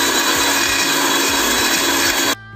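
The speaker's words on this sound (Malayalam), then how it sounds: "അപ്പോൾ ഇതിനെ നമുക്ക് നന്നായിട്ട് അടിച്ചെടുക്കാം." A mixer grinder blends ice cubes and sugar for cold coffee, giving a loud, steady grinding whir that runs unbroken for about two seconds before cutting off abruptly.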